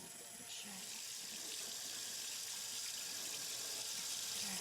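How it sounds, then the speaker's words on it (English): Steady stream of running tap water splashing into a sink while a sting or bite is rinsed, a continuous close hiss with no break. "Wash the sting or bite area with running water and soap."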